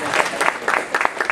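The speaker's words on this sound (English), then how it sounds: "give a big round of applause for everyone who put in all the hard work to make that happen" Applause from the audience at an anime convention closing ceremony, a short burst of clapping with talk mixed in.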